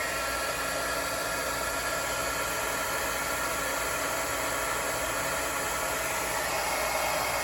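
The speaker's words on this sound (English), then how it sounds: "And I'm going to turn the heat gun on." A heat gun blows a constant, even rush of hot air to melt embossing powder on a snowflake card, loud and steady throughout with no talking.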